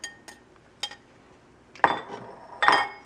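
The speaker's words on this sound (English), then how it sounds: "toss this with the tongs" Metal tongs toss spaghetti carbonara in a pan with the heat off under the pancetta and egg and cheese added, giving sharp close clinks and scrapes against the pan in a few quick bursts.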